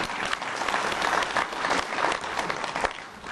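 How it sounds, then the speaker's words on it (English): A town hall meeting audience in West Hills claps in a dense, continuous round of applause, fairly close and steady across the short stretch. "you should give yourselves a big round of applause"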